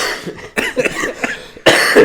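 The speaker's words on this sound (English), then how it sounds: "Great time to cough." A few loud, close coughs in quick bursts, with a brief pause before a final harsh cough.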